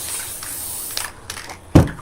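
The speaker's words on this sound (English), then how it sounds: "I'm just spraying some spray adhesive because wherever it's sticky, the glitter will stay." Spray adhesive hisses from an aerosol can onto decorative Christmas deco mesh, a soft steady spray followed by a louder close burst near the end.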